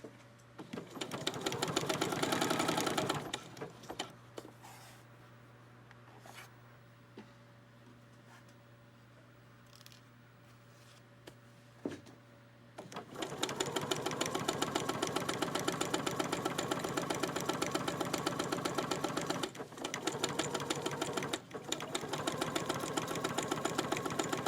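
A sewing machine stitches a dog bed cover in two long bursts of fast, even mechanical whirring, close and loud, separated by a quieter stretch with a low motor hum and a few clicks.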